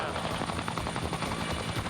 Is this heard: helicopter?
yes